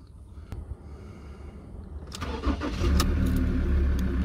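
A Ford Ranger engine cranks and catches, a quiet lead-in giving way to the engine firing up and settling into a steady mid-pitched run, heard close with no talking.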